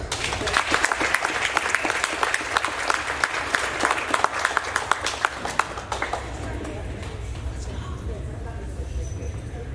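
Honor roll students at a middle school award ceremony draw a burst of dense clapping from the audience, strong for about six seconds before thinning out and fading away.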